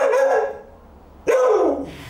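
Two loud, close dog barks, each long and drawn out with a falling pitch, separated by a short pause.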